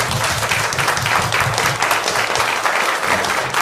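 A church audience at a worship concert at Heath Garden applauds the worship team, steady dense clapping filling the hall loudly and continuously from start to finish.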